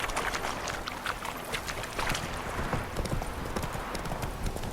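Hooves of a galloping horse in The Witcher 3: Wild Hunt pound in a quick, continuous clip-clop rhythm, close and steady throughout, with no speech over it.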